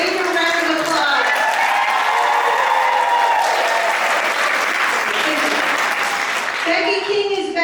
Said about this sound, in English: I think she needs a bigger round of applause.